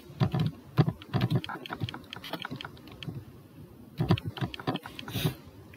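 Quick bursts of typing on a computer keyboard, close and crisp, with clusters of keystrokes separated by short pauses.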